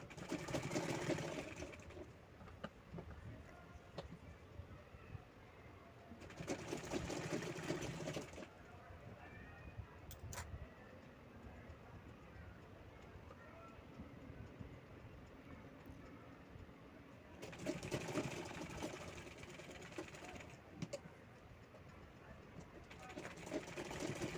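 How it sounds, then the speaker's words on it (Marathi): A sewing machine stitches lace onto an old saree in bursts of rapid, steady mechanical whirring, starting and stopping several times, loud and close, with someone talking over the quieter stretches between. "परत शिलाई त्याच्यात रिटर्न घेते डबल टिप झालेली आहे त्यावर"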